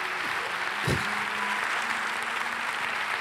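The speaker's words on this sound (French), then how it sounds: "Applaudissements généraux." Applause fills a live tabletop game show audience, a steady broadband patter of many hands held at an even level throughout, with a brief low thump near the start.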